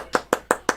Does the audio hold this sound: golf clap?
yes